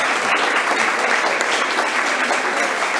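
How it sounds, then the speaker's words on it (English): An audience at a school board meeting applauds, a dense, even wash of many hands clapping steadily throughout. "Please give them one more round of applause."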